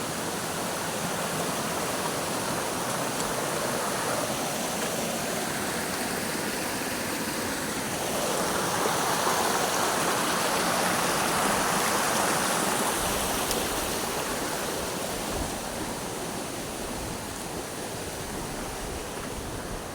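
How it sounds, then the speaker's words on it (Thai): A waterfall at Bo Wi, with more tiers below, pours into a forest stream, making a steady, broadband rush that swells slightly midway and holds for the whole stretch, with no talk. "ข้างล่างมีน้ำตกอีกหลายชั้นนะครับ"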